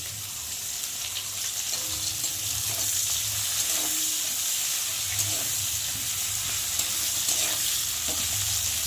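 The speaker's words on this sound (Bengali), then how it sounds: "আমার পেঁয়াজগুলো ভাজা ভাজা হয়ে গেছে দেখতে পাচ্ছ" Onions and green chillies fry in a pan with a continuous, fairly loud close sizzle, and occasional spoon strokes scrape and tap through the hiss.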